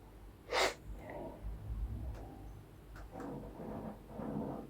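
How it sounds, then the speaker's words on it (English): A person takes a few quick sniffs from a glass of northern brown ale: a sharp nasal snort near the start followed by softer, breathy inhales, close and quiet with no talking. "So let's just have a wee smell and a wee sniff"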